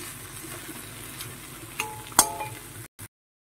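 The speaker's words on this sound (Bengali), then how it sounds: "ঘিটা দিয়ে একটু 2-3 মিনিট নাড়াচাড়া করে ঢেকে রাখবো" Banana flower and prawn curry in ghee is stirred in a pan, giving a soft continuous sizzle with scraping spoon strokes and a sharp metallic clink near the end before it cuts off.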